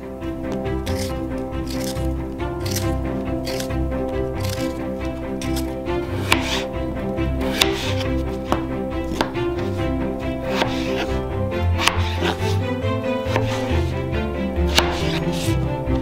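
Harvested potatoes being peeled, a quick series of crisp scraping and cutting strokes repeating in an uneven rhythm, close up over background music.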